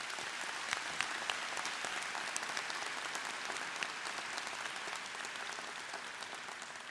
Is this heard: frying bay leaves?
no